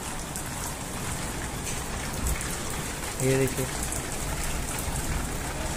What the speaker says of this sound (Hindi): एकदम से ही एकदम तेज बारिश आ रही है गाइस